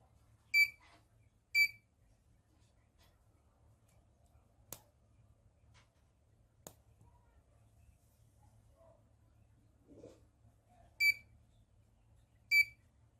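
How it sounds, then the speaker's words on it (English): An Arduino smoke detector's buzzer, driven by an MQ2 gas sensor, gives short sharp electronic beeps: two near the start and two near the end, spaced about a second apart, with faint clicks and near silence between them. "Then the buzzer starts alarming with the flashing LED."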